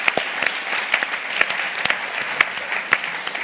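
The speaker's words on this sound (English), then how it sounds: "Please join me in giving our wonderful panel a round of applause." Moderate applause from a conference audience for a global health panel at the Skoll World Forum, individual claps distinctly audible in an uneven, fairly sparse rhythm throughout.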